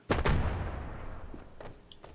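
A grenade explosion in the Standoff video game, a sharp loud double blast followed by a long decaying rumble and a couple of faint distant pops.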